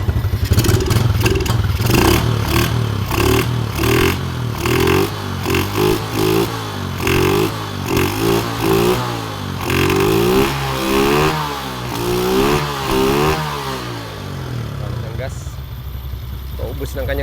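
Yamaha Vega Force Fi motorcycle, converted to a carburetor, revving repeatedly in rising and falling bursts, loud and close, with a person talking over the engine throughout.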